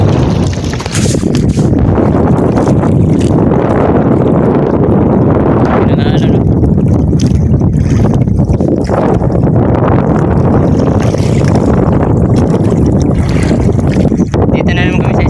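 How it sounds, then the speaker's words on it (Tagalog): Strong wind roars steadily over lapping, churning waves and creaking sounds from a small net-fishing boat at sea, loud and continuous with no pauses. "Malaki ng alon."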